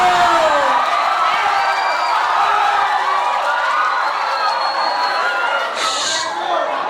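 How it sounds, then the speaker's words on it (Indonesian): Schoolchildren in a classroom cheer and clap in a noisy burst, a dense crowd of young voices shouting and whooping close by throughout. "Tepuk tangan dulu."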